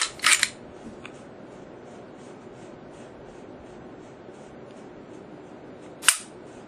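Two sharp mechanical clicks from the long, gritty trigger of a Smith & Wesson SD40VE pistol, one at the start and one near the end, with quiet room tone between them.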